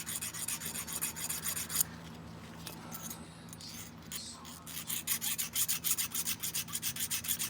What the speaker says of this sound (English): so we'll take our file and we'll just clean up some of the edges